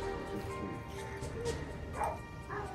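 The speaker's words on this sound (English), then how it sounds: "Sorry for the crazy dogs." Several excited dogs bark and yip at a house door during Halloween trick-or-treating, sharp close barks in quick bursts with whimpering between them.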